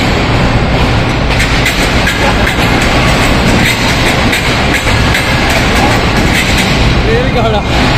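A train passes at Lahore railway station, its loud continuous rumble and rattling wagon noise filling the whole stretch close by, with voices talking over it.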